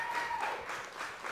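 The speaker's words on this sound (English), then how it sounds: "Let's give her a big round of applause." A short burst of audience applause at an evening PBS premiere event, steady and dense for about a second and a half with no voices over it.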